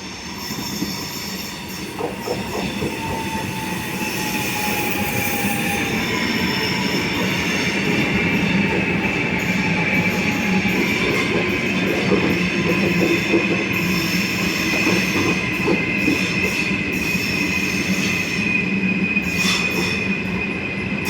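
Train pulling into a platform at Padova railway station, steady loud rumble of railcars with clickety-clack and high squealing wheels and brakes, continuous throughout without speech.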